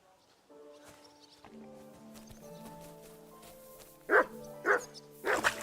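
Dog barks in Kingdom Come: Deliverance 2, three or four loud sharp yelps near the end, over steady game music with a sustained tonal backdrop.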